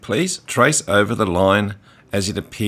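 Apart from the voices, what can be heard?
No distinct noise like a dog, phone or traffic.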